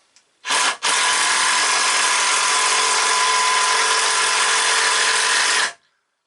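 A Power Plus 20V cordless drill driver drives a Phillips screw, a brief start then a loud, steady high whir for about five seconds before stopping, close up and with no talking.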